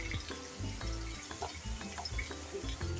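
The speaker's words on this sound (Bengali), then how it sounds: "পনির প্রায় ভাজা হয়ে গেছে।" Paneer fries in a pan with black cumin, bay leaf, dried chilli powder, green chillies, salt and cashews, a soft steady sizzle with light clinks and stirring close by, no talk.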